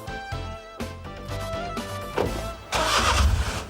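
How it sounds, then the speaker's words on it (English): A car engine cranks with a whirring starter, catches, and settles into a loud idle that rises into a rev, heard close with no voices. "you can still actually start the car and drive away"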